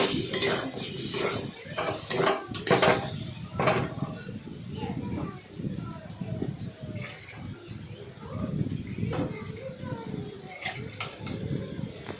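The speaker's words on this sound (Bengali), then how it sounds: "দিয়ে ভালো করে নাড়াচাড়া করলাম" Potatoes and poppy seed paste are stirred in a pan for alu posto, giving a soft scraping and shuffling with a light sizzle close by and voices in the background.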